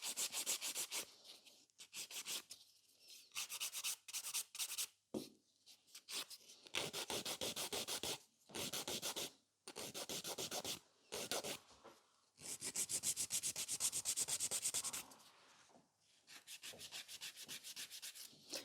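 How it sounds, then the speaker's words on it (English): A nail file rasps across a fingernail in quick rough strokes, repeated bursts of close scratchy filing broken by short pauses, with no talking. "And then this nail is filed, nice and pretty."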